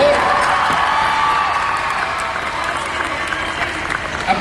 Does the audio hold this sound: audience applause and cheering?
yes